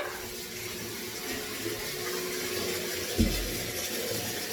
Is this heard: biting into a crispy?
no